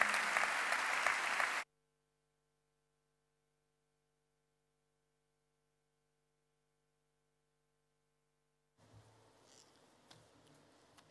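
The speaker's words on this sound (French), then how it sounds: "sous vos applaudissements" An audience at a university academic opening ceremony bursts into dense applause for under two seconds before it cuts off into silence, then faint room noise returns near the end.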